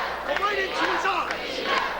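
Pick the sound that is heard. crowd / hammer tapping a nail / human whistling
crowd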